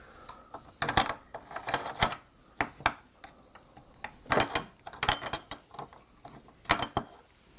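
A dovetail bit is fitted and snugged into a woodworking router, giving a run of sharp metallic clicks and scraping ratchet-like taps in irregular bursts, close and fairly quiet.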